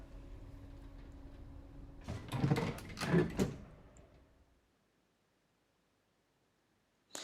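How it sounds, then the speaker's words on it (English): A front door opens in the Ace Academy video game with a short mechanical clatter and creak lasting about two seconds over faint background hum, then fades to silence. "As soon as I open the front door"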